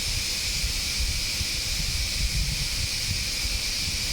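Pressure cooker with bone-in meat inside releasing steam, a loud, steady, rushing hiss that holds unbroken for several seconds with a low rumble beneath and no talk.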